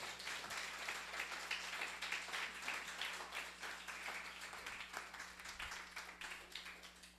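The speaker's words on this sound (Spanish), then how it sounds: "Dele una ofrenda de palmas al Señor" Church congregation clapping as an offering of praise, a soft, steady patter of many hands at moderate distance over a low electrical hum, no voices standing out.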